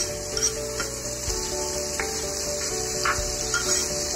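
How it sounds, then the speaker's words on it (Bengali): Chopped onions sizzle and fry in about four tablespoons of soybean oil in a pan for dal, a steady hissing crackle with occasional scraping stirs, close and moderately loud. "পেঁয়াজটা হালকা একটু ভেজে নেব।"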